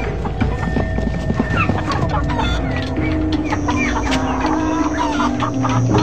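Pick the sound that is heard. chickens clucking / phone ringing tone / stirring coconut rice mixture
chickens clucking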